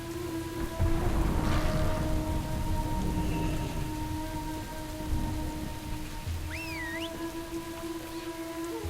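Steady rain falls in World of Warcraft: Battle for Azeroth, a continuous hiss with a louder swell early on, overlaid with faint game music tones and a brief whistling call.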